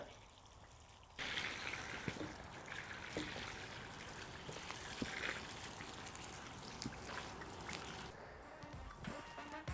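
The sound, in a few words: water running out of a garden hose from a valve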